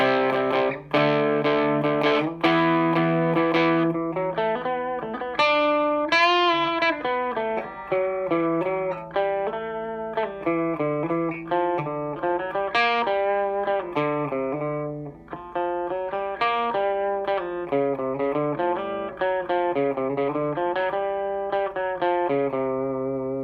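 Electric guitar played through an ENGL Ironball amp on its 1-watt clean setting with no reverb, a close, continuous run of picked notes and chords, dry and even in loudness, with no voices.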